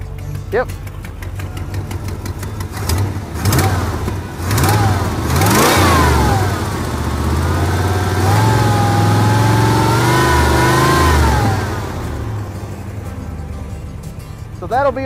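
Close and loud, the rebuilt engine of a 1991 Pontiac Firebird revs up repeatedly, rising and falling in pitch before easing back toward idle, with people talking briefly around it.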